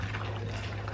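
Hot water poured into chocolate cake batter for a bundt cake, a brief close liquid pour with a steady low hum beneath, about one second long.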